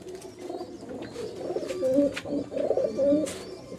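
Several Madrasi pigeons coo in a loft, rolling throaty calls repeating in overlapping bursts at close range, fairly loud and continuous, with no voices over them.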